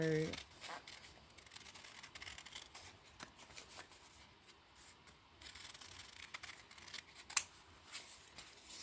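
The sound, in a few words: scissors cutting out appliqué pieces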